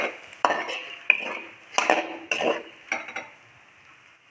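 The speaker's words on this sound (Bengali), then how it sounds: "জলটা এখন অ্যাড করে একটু নাড়াচাড়া করবো" Potatoes and spice masala stirred in a pan with a little water, a series of distinct metal spoon scrapes and clinks against the pan at irregular intervals over a faint simmer.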